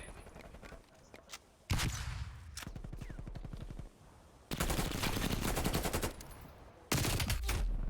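Call of Duty gunfire in a college esports match, with bursts of rapid automatic shots coming in separate loud stretches broken by short quieter gaps.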